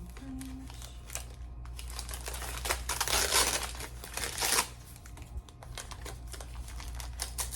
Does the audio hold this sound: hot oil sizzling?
no